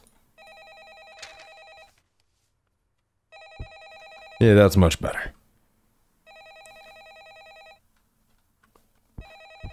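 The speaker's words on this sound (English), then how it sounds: "All right, I'm not gonna answer that phone." A telephone rings in a horror video game, several bursts of electronic trilling separated by gaps, with someone talking briefly between rings.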